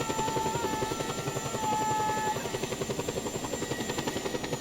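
A helicopter from Just Cause 2, set on the island of Panau, thumps steadily with fast, even rotor beats and a high turbine whine, loud and close throughout with no talking.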